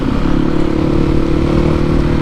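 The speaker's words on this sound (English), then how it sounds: "It does sound better. It proper sounds more like a thumper now." A Yamaha WR450F dirt bike idles through its exhaust fitted with a new baffle, producing a steady, loud, close thumping single-cylinder putter that holds at an even level without revving.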